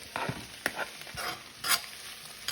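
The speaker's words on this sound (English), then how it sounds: "I'm going to let it saute, and once it's done sauteing, mix it with my meat here" Sausage and cabbage sauté in a cast iron skillet with a soft steady sizzle, and a few brief scrapes and clinks of a utensil stirring them. It is close and fairly quiet, and nobody speaks.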